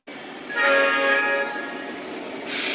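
Horn of a Lionel or MTH model Conrail train sounding one long sustained blast, loud and close, with a brief higher-pitched toot near the end.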